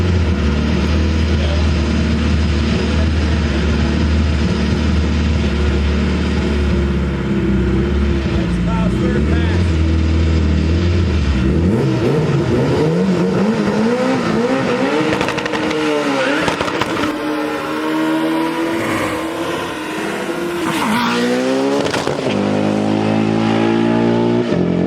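A damaged car engine revs hard and loud for a long stretch, the pitch climbing and falling in repeated sweeping pulls over a rough, rattling drone, with people talking over it.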